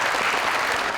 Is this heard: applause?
yes